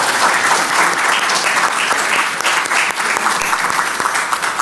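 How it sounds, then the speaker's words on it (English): A crowd at a 2024 primaries candidates' forum applauds Susan, a steady, dense round of clapping that holds at full strength throughout the stretch. "Let's give Susan a round of applause"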